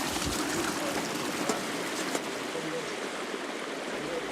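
Water runs steadily along a levada irrigation channel on Madeira, a continuous close babbling rush with small splashes and a voice faintly over it.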